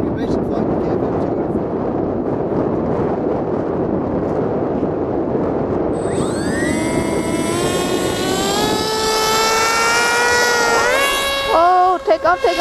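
An RC model airplane fitted with a KFM 2 wing runs its motor, a steady engine drone that rises into a loud, climbing whine with sweeping harmonics as it takes off, with a person talking over it.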